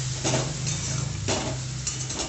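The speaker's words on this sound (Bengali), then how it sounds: "একটু ভাজা ভাজা করে নেব, কষিয়ে নেব একটু ভালো করে" Telakucho greens stir-fried in a pan make a loud, continuous close sizzle, broken by a couple of sharp stirring scrapes, with no voices.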